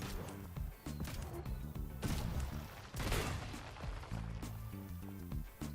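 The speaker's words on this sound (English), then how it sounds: "So I think it's safe to say the cannon will continuously shoot." An automatic sensor-triggered turret cannon in Trailmakers fires repeatedly, sharp bursts and crashing blasts over a rumbling mechanical hum, irregular and fairly loud, with no voices.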